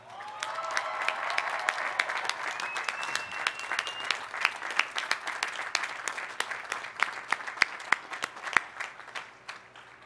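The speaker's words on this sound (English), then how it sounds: "round of applause." A commencement audience at Cal Poly Pomona's College of Business ceremony gives a standing round of applause, dense sustained clapping from a large crowd with a few voices rising over it, steady for the whole stretch.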